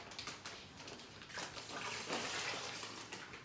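Brine is poured over a frenched pork loin sitting in a foil pan, a close, steady splashing pour that swells and continues for a few seconds without talk.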